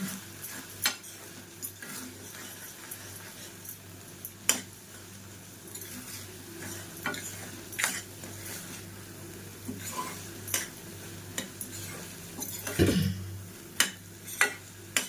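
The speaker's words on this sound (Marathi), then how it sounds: "कोथिंबीर घालून मस्त असं आपल्याला मिक्स करून घेऊया" Spicy vermicelli with coriander is mixed in a pan over a low sizzle, with sharp intermittent clinks and scrapes of a metal spoon against the pan, each stroke spaced apart at an unhurried pace.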